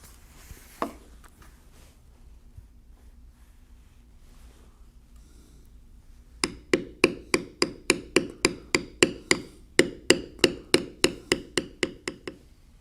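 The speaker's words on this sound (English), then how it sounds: "But for now, we're just lightly beveling the inside of the lid." Mallet striking a leather beveling tool while carving a cougar design: after a quiet stretch, a fast, even series of sharp close knocks runs for several seconds, pauses briefly, then resumes.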